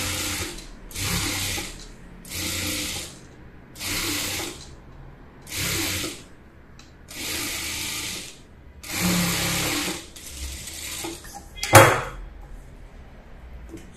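A sewing machine runs a side seam on a small child's frock in bursts of steady whirring, about seven runs roughly a second long, each separated by a brief pause, with a sharp click near the end.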